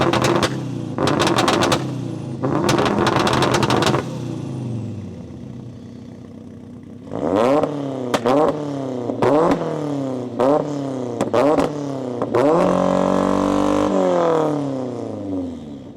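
Two 600 bhp hatchbacks, a Ford Focus RS and a Vauxhall Astra VXR, rev up loudly nearby: first a few stuttering blips and roars, then a series of rising revs that climb and fall repeatedly, with crackles between pulls.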